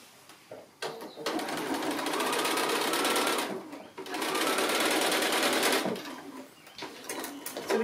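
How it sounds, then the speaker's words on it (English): A sewing machine stitches quilt pieces for a small pear sampler block, nearby and steady. A short burst is followed by two longer runs with brief pauses between them, and a few faint handling sounds come in at the end. "I'll get this one sewn on, and then I'll pop the other one on as well"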